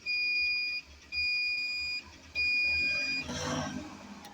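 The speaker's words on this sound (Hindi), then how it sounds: "एलईडी लाइट भी जलेगी और बजर भी चलेगा।" A battery-powered buzzer in a homemade starting box for a jammed fridge compressor sounds three steady, loud electronic beeps of about a second each, separated by short gaps, followed by a brief rustling noise.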